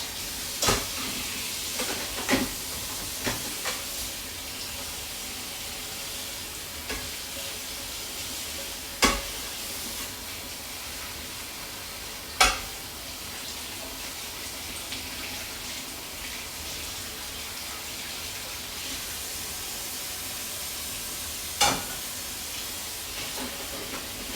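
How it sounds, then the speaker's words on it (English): Bacon and eggs frying in a pan at home, a steady sizzling hiss running throughout with a few sharp pops and crackles scattered across it, fairly close and alone without talk. "So I'm going to have bacon and eggs"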